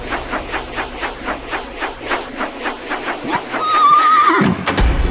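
Horses in a dramatized battle scene with soldiers falling from their mounts: rhythmic galloping hoofbeats building steadily, then a loud, shrill neigh near the end, over a rumbling background.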